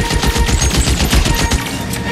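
Rapid heavy gunfire from a big gun in the video game LA Noire, a dense, loud burst of overlapping shots pounding steadily for about two seconds with no talk.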